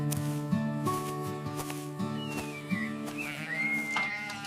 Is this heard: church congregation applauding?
no